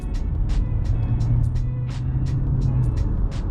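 Kia K4 compact sedan driving in sport mode, a steady low engine and road drone running throughout with faint rhythmic ticks above it, no talk.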